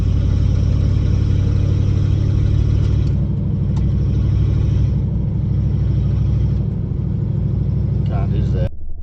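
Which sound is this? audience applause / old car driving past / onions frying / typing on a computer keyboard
old car driving past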